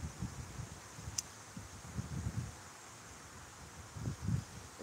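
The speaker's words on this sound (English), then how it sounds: "Yeah, it's very windy." Wind gusting through a backyard, a steady low rustling rush that swells in soft bursts, strongest near the end, with no talk over it.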